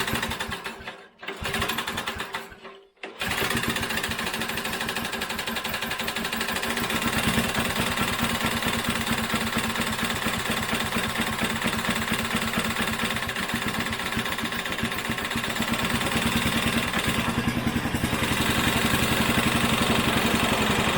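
A vintage Briggs & Stratton small engine with weak compression sputters briefly, then settles into a steady, loud, rapid putter close by, running without pause.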